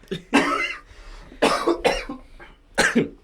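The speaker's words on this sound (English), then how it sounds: "I had to cough" Several harsh coughs burst out close by, a couple of single hacks followed by a quick double cough, with brief pauses between.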